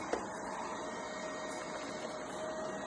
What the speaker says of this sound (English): the vacuum is running, but no spinning is done on this brush